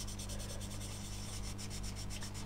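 Fine sandpaper rubs over a freshly applied piece of foil on a P-51B scale model aircraft in quick, regular back-and-forth strokes, producing a soft, close scratchy hiss with no voices present.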